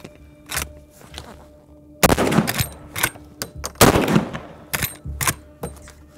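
Several loud, close gunshots from a .45-70 lever-action rifle fired outdoors in freezing cold, sharp cracks spaced irregularly a second or two apart with ringing decay between them.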